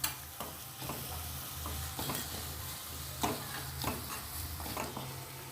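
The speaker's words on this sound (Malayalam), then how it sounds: "എടുത്തു വെച്ചിരിക്കുന്ന സവോള ചേർത്ത് കൊടുത്ത് നല്ലതുപോലെ ഇളക്കി ഒന്ന് ഫ്രൈ ആക്കി എടുക്കുക" Sliced onions sputter in hot oil with salt for a Hyderabadi mutton masala, a constant low sizzle with frequent rhythmic stirring scrapes close by.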